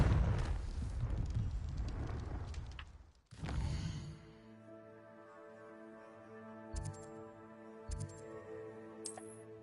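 A Confringo blasting spell in Hogwarts Legacy erupts in a loud, rumbling explosion over the first few seconds, followed by a second burst around the three-second mark, then fading into soft game ambience with faint ticks and chimes.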